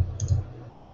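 A computer mouse gives a couple of quick, close clicks while browsing online listings, followed by a short quiet stretch.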